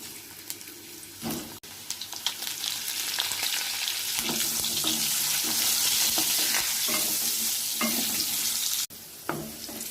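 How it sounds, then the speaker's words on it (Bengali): Potatoes fry in hot oil in a pan for a bean curry, giving a loud, steady sizzle with occasional stirring scrapes, heard up close without talk. "আলুগুলোকে ভেজে নেব।"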